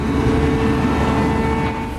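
A wildfire's steady, loud roaring rumble like a jet engine, broad and continuous throughout with no pauses.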